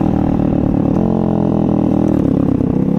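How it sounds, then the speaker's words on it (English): A Tao Tao 140cc Chinese dirt bike runs steadily while being ridden, its loud, close single-cylinder engine buzzing with a continuous mid-range drone and slight rev fluctuations throughout. "as you guys can tell, we're riding our dirt bikes"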